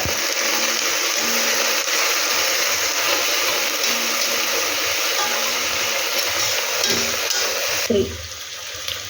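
Mint and coriander sautéing in a pan with softened onions for chicken ghee rice: a continuous loud sizzling hiss that cuts off sharply near the end with a clatter of the pan.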